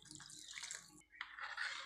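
Water is poured into a semolina and curd batter, a short splashing pour that breaks off briefly and then resumes. The sound is close and fairly quiet.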